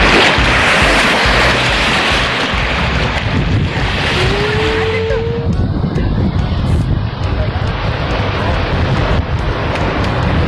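Surf and gusting wind on Carita beach, a steady broadband wash of waves with wind buffeting the microphone, loud and continuous throughout.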